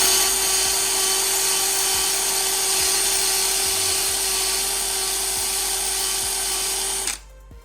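A portable drill spins a 1¼-inch internal wire brush inside 1¼-inch copper pipe, giving a loud, steady high whine that runs unbroken for about seven seconds before cutting off abruptly.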